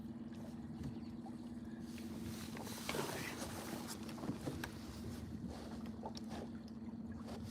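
An outboard-driven bass fishing boat motoring across a lake, a steady low engine drone running throughout with wind buffeting and water rushing over it.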